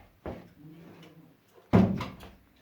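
A door closed indoors in a home, a soft rattling contact followed by a sharper, louder thud as it shuts, heard alone at close range.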